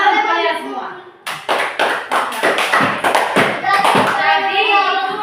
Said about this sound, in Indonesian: jadi tepuk tangan kalian semua